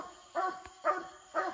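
A hunting dog barking up a tree during a raccoon hunt, three evenly spaced barks at moderate distance with a brief thump between the first two.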